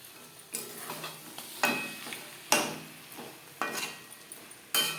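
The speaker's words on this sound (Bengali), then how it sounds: "পেঁয়াজের সাথে চিকেন বেশ ভালো করে মিক্স করে দেব।" Chicken and onions being stirred in a pan over a high flame, with repeated scraping strokes of a spoon every second or so over a steady close sizzle of frying.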